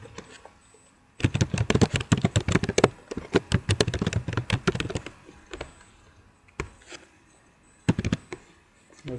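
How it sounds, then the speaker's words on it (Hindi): Fingers type on a computer keyboard in quick, dense runs of clicking keystrokes, then trail off into a few scattered, separate taps. The clicks are close and fairly quiet, with no talking. "आपके पास हो वही नंबर टाइप कीजिए"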